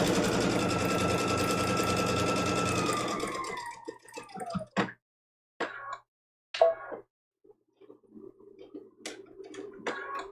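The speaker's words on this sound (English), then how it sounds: "I'm going to sew beyond them just a little bit and then back stitch." Sewing machine running a quilt block partial seam, a loud steady whir for about four seconds that slows and stops, followed by a few short bursts of backstitching and faint handling noises.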